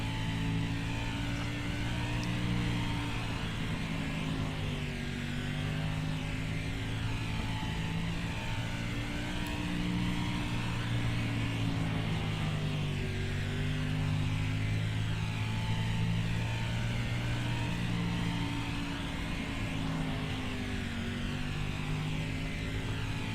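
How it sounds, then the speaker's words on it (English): A 305 sprint car engine in the iRacing game at Eldora Speedway drones steadily throughout, its low harmonic pitch sagging and wavering as it bogs down coming off a turn, loud and continuous with no talk. "the engine's bogging down coming out of turn 4"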